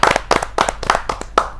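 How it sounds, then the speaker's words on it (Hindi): Loud, close rhythmic clapping for a poet at a Hindi kavi sammelan, bursts of hand claps in quick repeated clusters, strong and percussive with no voices over them. "सीमा एस दहिया जी, जोरदार तालियों के साथ।"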